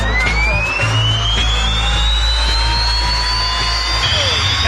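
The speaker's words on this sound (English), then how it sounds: "And that's the sound of a jet funny car." A jet-engine funny car's engine roars and whines loudly and steadily at a drag race, its pitch slowly climbing as it builds power, with a constant rumble underneath.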